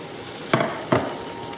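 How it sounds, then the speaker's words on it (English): Onions sautéing in olive oil with salt and pepper, heard as a steady low sizzle broken by two brief scraping stir-and-toss strokes about a third of a second apart. "onions sauteed in olive oil, little salt, pepper"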